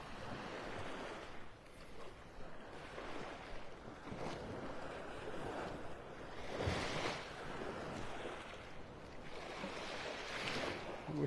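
Surf rolls onto a beach in North Naples, Florida, a steady wash of waves rising and falling in soft surges beneath gusty wind buffeting the microphone.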